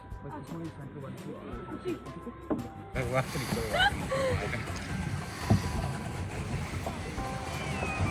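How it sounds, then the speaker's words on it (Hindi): A boat moves on Mansar Lake in Jammu and Kashmir, with soft water lapping and splashing, light wind and the hum of the boat, heard under people talking and growing fuller partway through. "तो अब हम करने वाले हैं बोटिंग."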